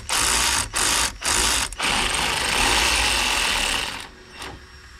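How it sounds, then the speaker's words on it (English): A ratchet undoes the brake banjo bolt on a Mazda MX5 NC caliper, giving several loud, close bursts of rapid clicking broken by short pauses, then one longer run that fades out; no one speaks. "So I'm taking the banjo off now."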